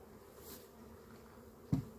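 Honey bees buzz at an open hive being smoked with tansy added to the smoker, a soft, continuous hum broken by one brief knock near the end.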